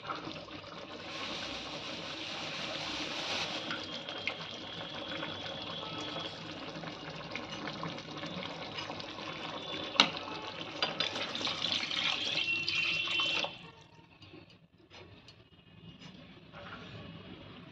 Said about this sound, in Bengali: সসটা ফোটা শুরু হয়ে গেছে, এবার আমি দিয়ে দিচ্ছি কর্নফ্লাওয়ার গোলা জলটা।